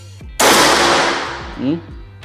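A single sharp air rifle shot from a Bocap SR Super Tactical cracks out close by, its noisy burst trailing off over a second or two, with a faint voice just after.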